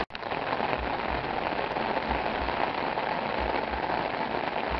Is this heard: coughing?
no